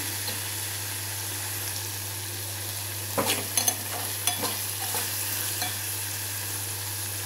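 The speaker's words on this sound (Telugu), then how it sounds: "కూరకు తగినంత కారం, వేసి ఒక్కసారి బాగా కలిపేసి" Curry being stirred with chili powder in a pan, a steady sizzle with a handful of sharp scraping clinks of the spoon near the middle, no voices.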